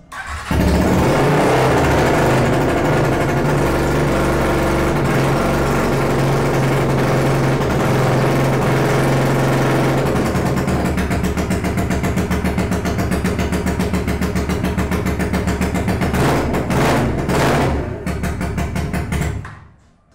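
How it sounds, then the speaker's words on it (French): A Honda XLR 125 scrambler motorcycle starts and keeps running at close range, its loud steady engine rumble shifting about halfway and ending with a few revs before cutting out. "Bon, bah résultat des courses, ça démarre. Le bruit est assourdissant."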